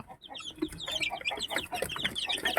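Rhode Island Red and Barred Plymouth Rock chickens in a heated box cluck and chatter close by. Overlapping busy clucks and peeps fill the short stretch, with no clear talk over them.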